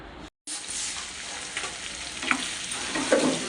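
Raw prawns cooking in a pan with a continuous close sizzle and frying crackle, broken by a brief silence near the start, then a few stirring scrapes and pops, with no talk.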